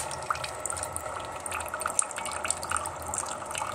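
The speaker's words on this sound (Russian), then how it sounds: "вот такой идет тоненькой струйкой" A thin stream of water trickles steadily from a Kitfort KT-2502 electric thermopot into a container, with faint dripping and gurgling, fairly quiet and continuous.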